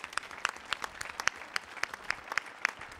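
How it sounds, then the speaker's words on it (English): Audience applause at a Millennium Stage concert after a ukulele performance, a moderate crowd clapping in steady, somewhat sparse claps from mid-distance, with no talking over it. "Let's give a round of applause."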